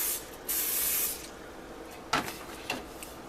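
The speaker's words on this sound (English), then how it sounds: "I just use this cooking spray again." Two hissing aerosol sprays of cooking spray: a longer burst lasting about a second, then two short spurts a moment later, close up with no talking.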